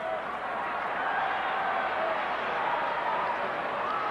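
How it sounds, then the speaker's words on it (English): Baseball fans booing across a stadium crowd during a 1998 Red Sox game, a steady, broad wash of jeering voices that holds at a constant level throughout. "Well, you hear the fans booing"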